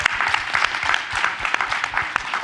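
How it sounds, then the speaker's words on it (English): A panel audience gives a round of applause, loose, moderately sized clapping with distinct individual hand claps standing out, steady for a couple of seconds. "So can we get a round of applause?"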